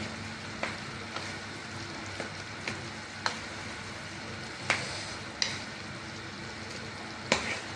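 Food sizzling steadily in a pan, with occasional sharp scraping clicks of a utensil stirring, no voices, while cooking soya chunk curry.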